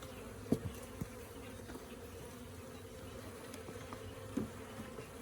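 Honey bees buzz inside a beehive during a winter hive cleanup. A low, steady hum runs throughout, with a few brief knocks and bumps from the frames. It is fairly quiet and close.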